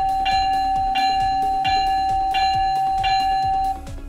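Electronic bell from an Atlas Trainkids glow-in-the-dark toy passenger train, five evenly spaced dings over the toy's rhythmic running clatter, loud and close.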